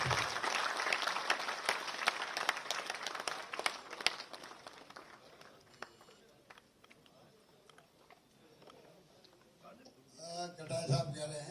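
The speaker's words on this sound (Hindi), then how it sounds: "और तालियों की करतल ध्वनि से" Applause from an audience at a state-level livestock farmers' award ceremony, a dense burst of clapping that fades after a few seconds, followed by a voice speaking over the hall.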